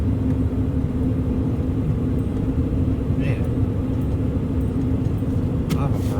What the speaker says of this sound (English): I know it's noise coming out of the fridge